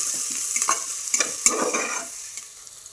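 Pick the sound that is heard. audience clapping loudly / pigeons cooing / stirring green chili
stirring green chili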